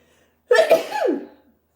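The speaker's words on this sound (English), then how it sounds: "I'm going to sneeze." One close, sharp sneeze with a quick inhale and a loud voiced burst that trails off, alone in a quiet room.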